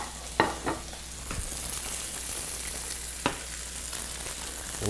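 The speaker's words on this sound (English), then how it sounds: "our catfish fillets are coming along really good. Been cooking for about 4 minutes on each side" Catfish fillets frying in oil in a pan with a steady, close sizzle and a few sharper scrapes and clunks of a utensil moving the pieces.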